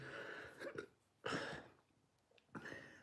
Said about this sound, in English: Got a little bit of a pepper burp right there.